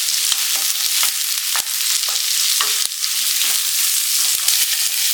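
Chopped onions, green chilli pieces and coriander frying in a pan for homemade chicken fried rice, a steady loud sizzle with a spoon stirring and scraping in sharp repeated clicks throughout, with no talking.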